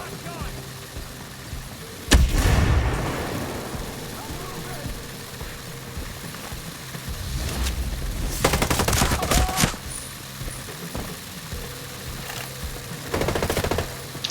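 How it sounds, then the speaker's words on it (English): Rapid minigun bursts from a heavy enemy in the shooter game Ghost Recon Breakpoint, several loud rattling volleys of automatic fire separated by pauses, with other gunshots and voices talking in between. "there's the heavy with the minigun"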